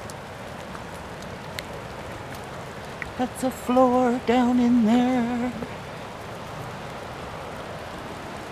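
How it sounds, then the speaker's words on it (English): Rain falling outdoors makes a steady, even hiss that runs the whole time, while someone speaks briefly in the middle over it. "The rain seems to be letting up a little."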